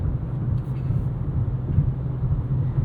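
A steady low rumble of a 2026 Nissan Sentra SR with a CVT idling in eco mode, continuous and even throughout with a slight hum underneath.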